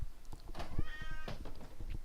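A house cat gives a clear drawn-out meow with a rising, wavering pitch. Scattered thumps and handling noises surround it, and no one speaks.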